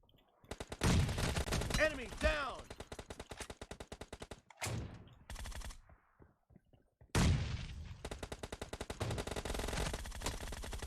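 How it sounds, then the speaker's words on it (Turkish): Loud rapid automatic gunfire from an online shooter game, in long bursts broken by short pauses and a sharp swell of noise near the middle, with a few single shots between. "Bak bana sıkıyor bak."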